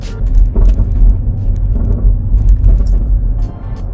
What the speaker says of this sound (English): And over little bumps and things, you hear this annoying rattle.